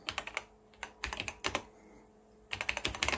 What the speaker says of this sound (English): the trick is just typing in this long series of digits, the S record, to send over to the machine